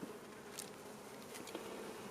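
Honey bees buzz in a steady, close drone while a weak hive is opened for inspection, the hum holding evenly throughout with faint bright whines passing.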